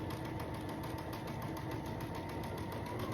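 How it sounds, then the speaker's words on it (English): A sewing machine stitches quilt strips together at a quarter-inch seam, giving a steady, rapid, evenly pulsing mechanical whir that runs unbroken and close-up throughout, with no talking. "I'm just stitching it down at 1/4 inch."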